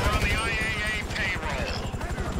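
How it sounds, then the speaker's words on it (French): A helicopter in Grand Theft Auto V gameplay produces a continuous rhythmic rotor thump mixed with game sounds, and a person talks over it. "Il y a un autre hélico."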